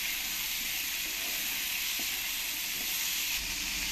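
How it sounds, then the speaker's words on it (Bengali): Tomatoes fry with potatoes and spices in a hot pan, giving a steady, dense sizzle that stays close and even, with no talking over it. "টমেটোটা দিয়ে ভালো করে আলুর সঙ্গে একটু কষিয়ে নেব।"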